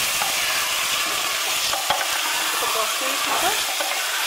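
Mutton is stirred and fried as kasha in a pan. It gives a constant close sizzle with scraping stir strokes and a few sharper clinks. A voice speaks briefly over it.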